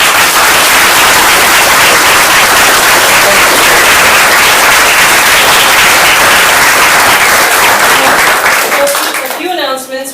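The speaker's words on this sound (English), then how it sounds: "One more round of applause." Audience applause closing a law lecture, a loud, dense, sustained round of clapping from a large crowd that fades near the end as a voice begins to speak.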